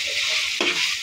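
Chicken mash sautéing with chilli powder in a pan gives a brief, steady close sizzle with one quick stir-scrape partway through.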